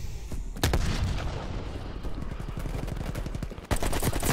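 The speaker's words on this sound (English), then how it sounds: "Using the AK. That thing rips." Rapid full-auto AK-47 fire in Black Ops Cold War, a loud close burst of dense cracking shots running for several seconds with a short break before firing resumes.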